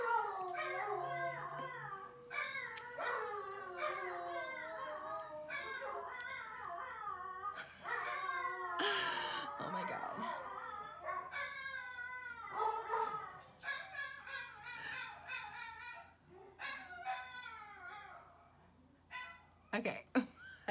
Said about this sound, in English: When they hear sirens outside, they have to howl.